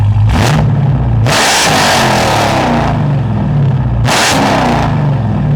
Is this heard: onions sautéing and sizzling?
no